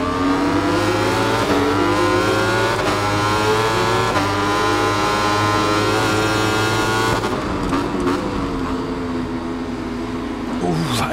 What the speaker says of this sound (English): Ooh, that engine braking.